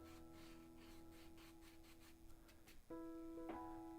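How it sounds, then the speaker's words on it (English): A charcoal stick rubbed against sandpaper to clean its dirty tip, a run of quiet gritty scrapes in short strokes, ending in a brief steady tone. "So you just rub it on your sandpaper."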